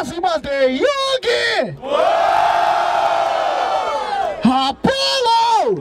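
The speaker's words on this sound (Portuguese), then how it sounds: "Escolha um e grita, família. Barulho para as rimas de Yugi!" A crowd at a freestyle rap battle in Barueri roars and cheers in one sustained, loud swell for Yugi's rhymes, framed before and after by an MC's amplified shouting.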